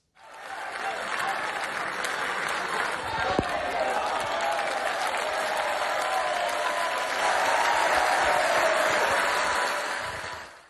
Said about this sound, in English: the biggest cheer of the day came at this moment